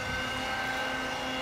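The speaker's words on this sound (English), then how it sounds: "This is a computer-guided helicopter," Autonomous computer-guided helicopter flying, a steady whirring engine and rotor drone with constant tonal hum, alone and fairly close throughout.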